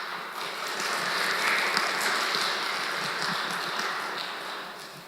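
Audience applause for a rabbi being introduced at a Passover talk in a Lent series, a steady, dense wash of many hands clapping that swells and holds, then tapers off toward the end, with no voices over it.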